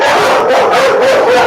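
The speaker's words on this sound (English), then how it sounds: "our sentry mammal has decided that he has to inform the neighborhood during the podcast of how loud he can bark" Loud dog barking and yelping right at the microphone during a home podcast recording, a continuous close burst filling the whole moment.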